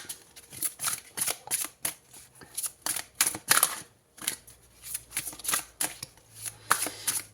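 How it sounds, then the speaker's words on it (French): Close, crisp riffling and snapping of tarot cards being shuffled in quick repeated bursts with short pauses between them, and no voices over it. "on prend une dernière carte avec ce tarot"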